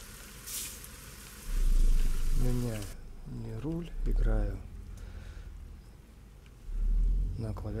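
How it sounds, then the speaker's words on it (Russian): Steady rain hisses in the background while someone talks over it, playing American Truck Simulator. "У нас дождик идет."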